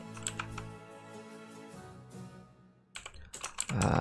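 Keys clatter on a computer keyboard as a character name is typed for Record of Lodoss War Online, a burst of quick clicks at the end following a quieter musical stretch.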